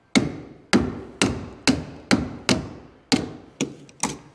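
Nine sharp, evenly spaced knocks as a test cap is smacked back down into a vent pipe, each strike close and loud with a short ringing decay, no talking.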